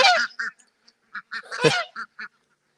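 Runner ducks bought from a feed store quack and honk in a run of short, loud calls with brief gaps between them, one burst noticeably harsher and louder than the rest, with no talking over them.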